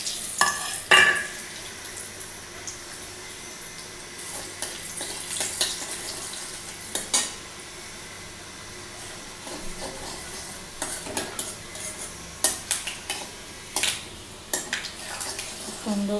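Fenugreek seeds hit hot oil over a fish already fried in the pan, giving a soft steady sizzle broken by sharp scrapes and clinks of a utensil against the pan throughout.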